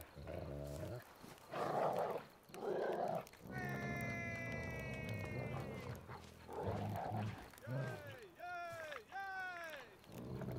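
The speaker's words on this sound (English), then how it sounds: "I do like these dogs doing their tricks." Performing dogs in The Witcher 3 yip and bark during a town show, short excited barks and whines in bursts among crowd chatter and talking voices, fairly close and moderately loud.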